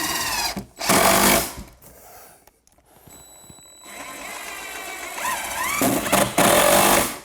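A power drill drives screws into a wooden beam in several loud whirring bursts separated by pauses, close by and with no talking.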